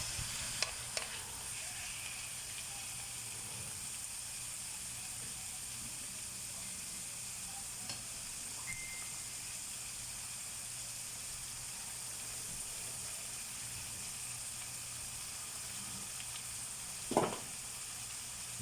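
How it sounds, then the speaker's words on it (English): Chicken sautés in a pan with a steady, faint sizzle throughout, and a few sharper crackles come near the end. "You saute all the chicken until this one turns perfectly white"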